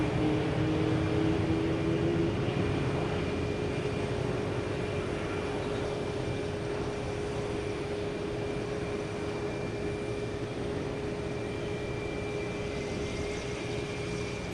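Airliner taking off from Boston Logan toward London Heathrow at dusk, a steady broadband jet roar with a faint whine held throughout, fairly distant and constant, without speech.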